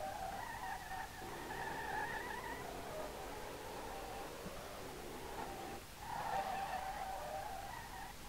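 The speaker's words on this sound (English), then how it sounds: "the engine sounds are the best" A car in the video game SLRR drifts with tire squeal dominating, a sustained whining screech that wavers in pitch, dips briefly midway, then surges again over a low engine drone.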